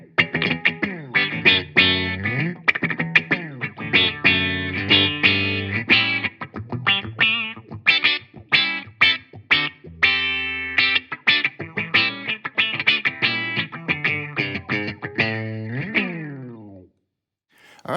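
An electric guitar through a Fender Champion 100XL amp with its touch wah effect plays a funky riff of quick, vowel-like swept notes, loud and alone, ending in a short pause.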